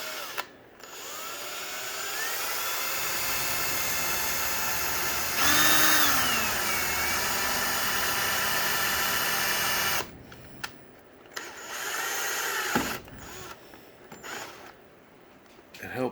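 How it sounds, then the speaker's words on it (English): A power drill bores a small hole in a Jeep Wrangler JK, whirring steadily under load for several seconds, then stops and restarts in short bursts with brief pauses, close by. "So I'll drill a smaller hole"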